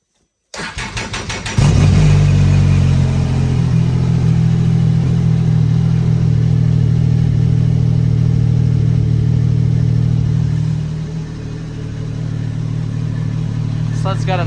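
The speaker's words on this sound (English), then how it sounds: "Sled's got a nice rumble." A 2017 Ski-Doo Renegade 1200 4-TEC snowmobile cold-starts on a crank, then settles into a loud, steady low exhaust rumble. A brief rev follows, and the engine drops back to a slightly lower idle near the end.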